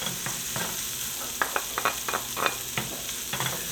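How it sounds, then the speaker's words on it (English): Ginger, green onion and garlic saute in butter in a pan, a steady bright sizzle with scattered crackles and spatters as the mix is moved around. "And we get it sauteing, move it around."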